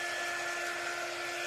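A dryer blows a steady, loud, continuous stream of air to dry freshly sprinkled craft pieces, a close whooshing hum that holds unbroken throughout.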